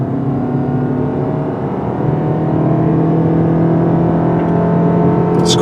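A 2016 Toyota RAV4 Hybrid SUV accelerating on city streets, a steady close engine and motor drone with road noise that builds slightly louder partway through.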